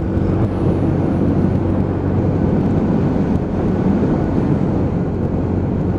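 A Lexmoto ZSB motorcycle cruising steadily at 42 mph on a dual carriageway, an even engine hum mixed with buffeting wind noise, loud and unbroken with no speech.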